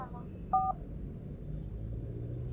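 A single short touch-tone beep from a phone keypad sounds briefly over low background rumble, with no speech.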